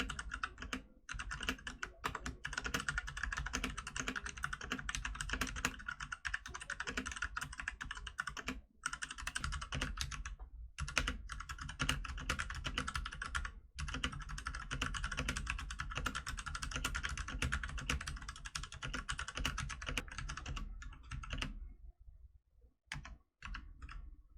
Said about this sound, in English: I would stay with the brown switch because I've been typing on it for a while